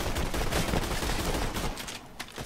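Sustained automatic gunfire from Borderlands 2 rattles steadily and loudly, then thins into sparser shots near the end, with no talk over it.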